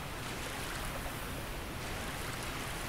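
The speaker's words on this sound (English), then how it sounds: "Look at this cool little waterfall yeah." A small waterfall in the Dark Souls video game gives off a soft, constant hiss of splashing water, quiet and even throughout, with no voices over it.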